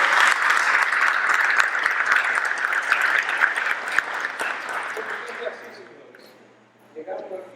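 Audience applause as a second round at the end of a lecture, loud sustained clapping that fades out, with a voice speaking briefly near the end.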